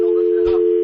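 A steady, loud telephone line tone sounds after a radio call-in caller is cut off, one unbroken pitch holding for under a second with a faint crackle in the middle and no voices.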